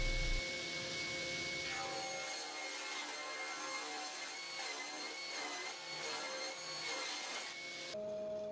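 A saw runs steadily along a long solid oak seat top nearly three meters long, giving a continuous close whirring cut with a high tonal whine and slight rhythmic pulsing, ending with a brief change in tone.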